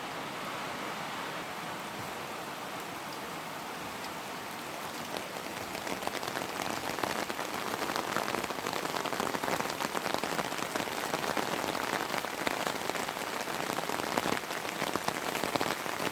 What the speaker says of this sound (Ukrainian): Другий день іде дощ.